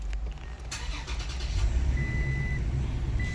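A 2020 Toyota Tacoma idles with a low engine rumble as its reverse warning sounds in thin, steady beeps, one long tone followed by a shorter one.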